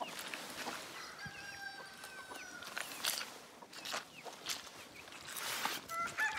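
Hens in a coop cackle and cluck faintly in bursts, with a few higher calls rising over a quiet, steady background.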